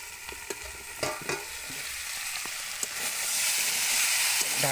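Pumpkin and Malabar spinach are stirred in a frying pan over a steady sizzle, with repeated spatula scrapes and taps scattered through, close and continuous.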